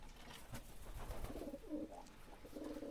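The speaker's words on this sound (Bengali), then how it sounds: "কীরকম ডাকাডাকি করতেছে" Pigeons cooing at midday feeding time over scattered wheat, soft repeated throaty coos overlapping in a low murmur, close but faint.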